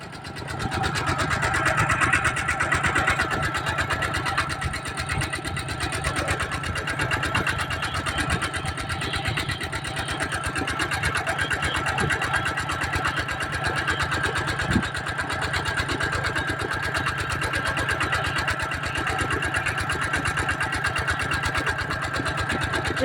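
A farm tractor engine runs steadily on the way to a rubber plantation, a loud, continuous rattling mechanical drone with a fast chugging pulse that holds nearly unchanged throughout.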